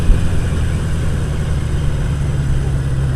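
An inline-four motorcycle engine runs at a steady idle, giving a constant low, throbbing drone with no change in pace and no voices.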